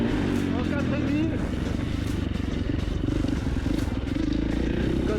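A 4.5 motorcycle pulling away on its first turns of the wheel, its engine a steady, close rumble throughout while a rider talks over it.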